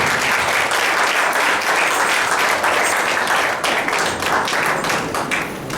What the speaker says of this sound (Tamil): ஷிரடி சாய் ஞான பீடத்துக்கு ஒரு பெரிய கைத்தட்டு கொடுங்க.